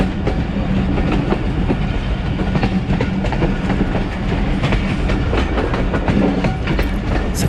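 Pakistan Railways' Thal Express passenger train runs from Rawalpindi toward Multan, with a loud continuous rumble and rhythmic clickety-clack of wheels over rail joints heard close up from aboard.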